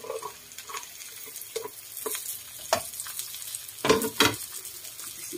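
Squash pieces sizzle and crackle in a hot pan as they are sautéed with tofu and vegetables, with scattered stirring scrapes and a couple of louder clatters, and no talking.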